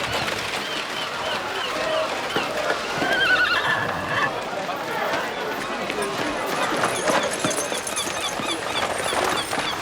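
A horse drawing a carriage whinnies with a drawn-out neigh while hooves clip-clop steadily on the road, and people talk over the sounds of birds outdoors.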